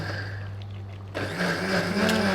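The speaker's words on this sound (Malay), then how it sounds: "Kelapa bakar ni Okey, kita blender dia lagi." A kitchen blender switches on to blend roasted coconut, its motor kicking in abruptly and settling into a loud, steady whirring grind with a rising pitch, preceded by a quieter stretch of room hum.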